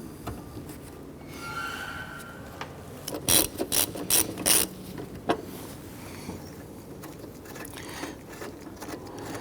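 Ratchet clicking as a center screw is snugged down on the windshield cowl of a 1997-2006 Jeep Wrangler, several sharp bursts of close, loud clicks midway between quieter mechanical handling.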